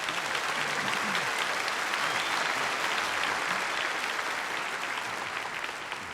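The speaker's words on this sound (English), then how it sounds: "Could you please give them a round of applause, ladies and gentlemen?" Sustained audience applause at the Grand Ole Opry, a dense, even wash of many hands clapping for several seconds, broad and steady with a slight fade at the end.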